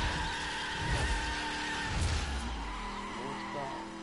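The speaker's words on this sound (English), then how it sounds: "Burn up some nitrous." A BMW Z4 races in The Crew with a nitrous boost engaging, engine roaring steadily with tyre skids and squeals throughout, loud and continuous with a faint voice underneath.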